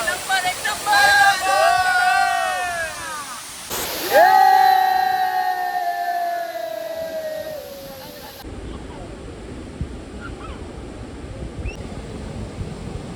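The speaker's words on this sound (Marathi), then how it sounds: "चांगला उत्तम अप्रतिम असा धबधबा आम्ही आज राजापूर या ठिकाणी पाहिलेला आहे" Steady rushing roar of Savatkada Waterfall at Rajapur, first under several people talking and then heard on its own as the voices stop.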